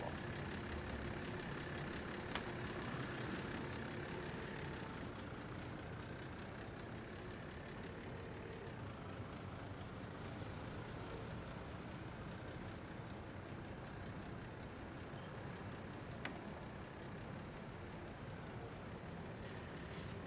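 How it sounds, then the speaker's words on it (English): Video game city traffic with buses rumbles steadily, engines idling and passing vehicles blending into a low, continuous hum with occasional faint clicks. "You hear the horns and you hear the buses"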